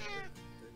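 A cat meows in the video game Sophia the Traveler, one short, close, fairly loud call that fades as it ends, with no talking over it.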